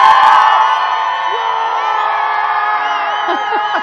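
Crowd of people at a rocket launch watch site cheering and whooping loudly, a sustained chorus of many shouting voices with rising yells near the end.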